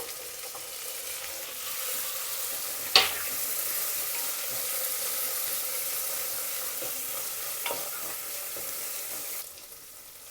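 Tomato fries in a tempering of oil and onions for akki uppittu, a steady close sizzle with a sharp clack of utensil against pan and a faint scrape later, no talking.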